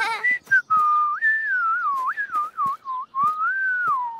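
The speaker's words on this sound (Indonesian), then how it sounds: "Pijet bisa bersiul tanpa kotak jus." A cartoon character whistles a wavering tune with the lips alone, the pitch gliding up and down in short phrases broken by small breaths, clear and close.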